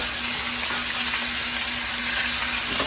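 Cut onions and a browning pot roast sizzle loudly and steadily in hot oil, a constant close frying hiss with no talk.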